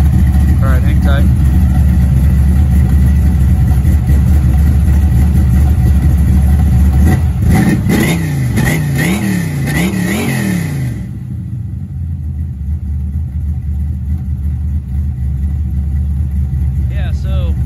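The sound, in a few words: 1980 Chevy Malibu engine with comp cam idling and revving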